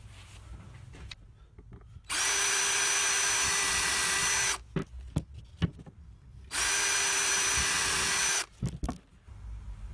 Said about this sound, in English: I've got a drill bit with a countersink set up in the battery drill. Just going to knock out these pilot holes.